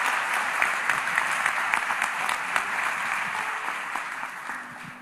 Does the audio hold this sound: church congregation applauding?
yes